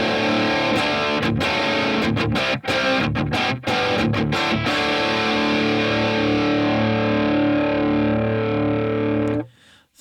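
A 1970s Gibson SG Standard electric guitar plays heavy distorted chords through a Marshall-style cabinet loaded with a G12M speaker, loud and sustained with a few choppy rhythmic stabs, then rings out and cuts off.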